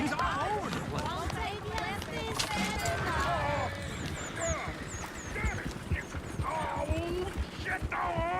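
Horses gallop with clip-clop hoofbeats in Red Dead Redemption 2, mixed with whinnies and a busy layer of other game sounds, while people talk over much of it.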